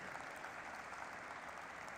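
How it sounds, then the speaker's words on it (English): Steady, dense applause fills a listing ceremony for Gaja Alternative Asset Management Limited, with many hands clapping at once. It stays even and loud throughout with no voices on top. "One big round of applause for that."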